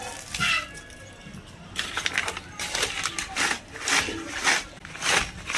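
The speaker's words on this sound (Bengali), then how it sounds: "কত সুন্দর দেখুন আওয়াজটা দেখলে বন্ধুরা বুঝতে পারছেন যে চিপসগুলো কত সুন্দর হয়েছে" Crispy homemade potato chips are tossed and mixed by hand, giving close, irregular bursts of dry crunching and rustling with short pauses between.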